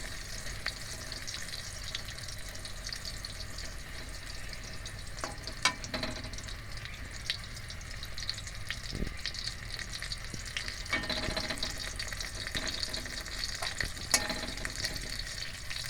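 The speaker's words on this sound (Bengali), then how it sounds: "একটা একটা করে পটল ভাজা হয়ে গেলে আস্তে আস্তে করে তুলে দেবো।" Pointed gourd (potol) slices fry in hot oil with a steady, crackling sizzle across the whole stretch, broken by a few sharp clinks and scrapes of a utensil turning and lifting the pieces.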